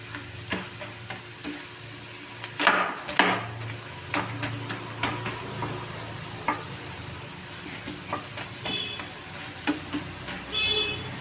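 Potato pieces dusted with flour fry slowly in oil on a low flame, a soft continuous sizzle punctuated by occasional clicks and scrapes of stirring in the pan.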